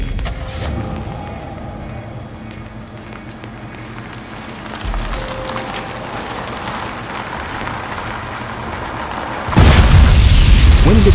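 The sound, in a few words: mine blast explosion hitting an armored vehicle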